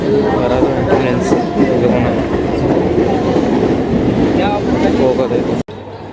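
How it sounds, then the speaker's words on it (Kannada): A train at Masjid Bunder railway station in Mumbai during the busy Ganpati festival crowd, a loud continuous rumble and clatter of rail cars close by, steady throughout with a brief cut near the end. "ಮಸ್ಜಿದ್ ಬಂದರ್ ಎಕ್ಸಿಟ್ ಇದು ರೈಲ್ವೆ ಸ್ಟೇಷನ್"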